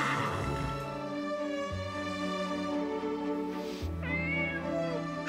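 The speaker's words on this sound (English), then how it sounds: "Oh, look, Clarice, a kitty." A drawn-out cat meow, loud and close, its pitch wavering and rising near the end over steady background music.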